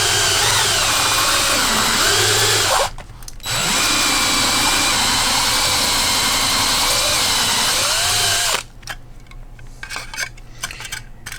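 A powered reamer bites into a Kraken 5 Worx quadcopter pod to open up a camera hole, a loud close grinding whine that drops out briefly, resumes for several seconds, then stops, leaving faint handling clicks.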